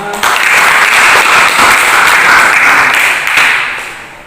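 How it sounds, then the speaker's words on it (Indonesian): A classroom group claps together after a presentation, making a loud, dense burst of applause that holds steady for several seconds and then fades out at the end. "Kita berikan aplaus untuk kita semua."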